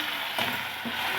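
Ginger and green chili paste hitting a pan of frying onion and garlic gives a steady close sizzle, with a brief louder burst of hiss as the paste goes in.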